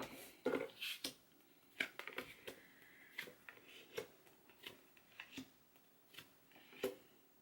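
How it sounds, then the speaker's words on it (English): A deck of tarot cards is shuffled in quiet, irregular bursts of soft riffling, flicking and tapping spread across several seconds, faint and close. "While I was shuffling"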